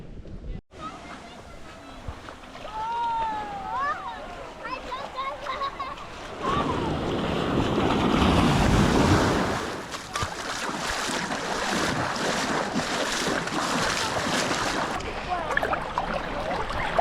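Ocean surf at Palm Beach on Waiheke Island, New Zealand, heard from above the shore as a steady broad wash with swelling surges and some wind buffeting, with a few people talking and birds calling.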